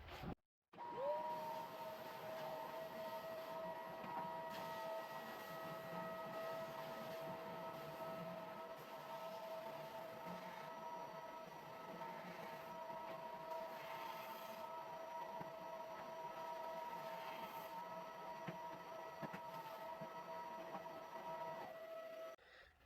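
A power sander runs steadily on wooden stair treads for alternating tread stairs, a continuous loud whine with a sustained tonal hum that starts abruptly and holds evenly for about twenty seconds before cutting off, with no talk.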